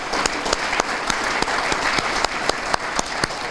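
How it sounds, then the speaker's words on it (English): A room of attendees applauds the hosting sponsors at Hamilton's 2017 State of Schools Report, a steady wash of many hands clapping together with a few sharper claps standing out, held at an even level with no talking. "Let's give them a round of applause for hosting this today."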